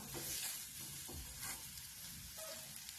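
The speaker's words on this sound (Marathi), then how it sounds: "चांगलं एक 5-6 मिनिटं चांगलं हे हलवून घ्यायचं आहे आपल्याला." Matar puri filling, a pea mixture, is stirred in a pan over medium gas, giving a steady crackling sizzle with repeated scraping strokes, close and moderately loud, with no talking.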